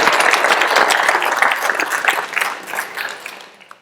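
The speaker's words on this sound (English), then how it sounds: "So everyone, please give yourselves a big round of applause." Audience applause at a graduation ceremony for a Howard County fire department trainee class: dense, loud clapping from a large crowd that runs steadily and then fades out toward the end.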